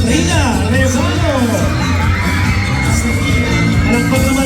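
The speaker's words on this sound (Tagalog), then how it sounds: "Palakpak para kay Ma'am Katrina Rezano" A school crowd, many of them children, whoops and shouts for a teacher at a Buwan ng Wika 2024 celebration, with a continuous, close, loud roar and a few sharp bangs.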